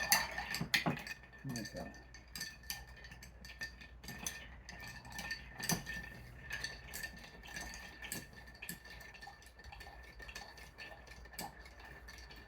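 A cocktail stirred in a glass, Lady From Shanghai, faint clinks and taps of a bar spoon against glass repeating at an uneven pace, quiet and close, with a brief spoken word early on.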